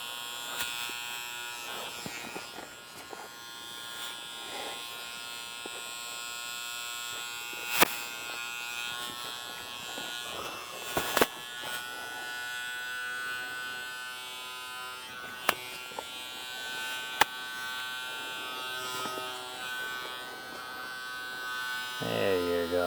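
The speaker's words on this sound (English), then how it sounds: "Turning the shaver on and off." An electric shaver buzzes steadily near a horse during ear-clipping desensitisation, droning continuously throughout with occasional sharp clicks, while a person talks quietly in the background.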